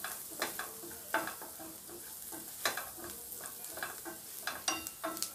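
Chili powder and salt frying in oil while a spoon stirs them, giving a busy crackling sizzle broken by repeated sharp clinks and scrapes against the pan, close and fairly quiet.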